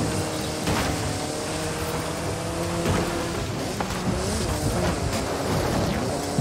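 A car engine held at full throttle in the Forza Horizon 5 racing game, a steady loud roar with rising and falling harmonic whine as revs shift, continuous and close.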